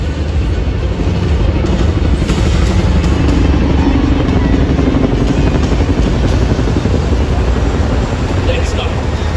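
An H-225M military helicopter flies past during Singapore's National Day Parade, its rotor and engine roar a loud, steady wash that holds for the whole stretch, with crowd and open-air noise blended beneath it.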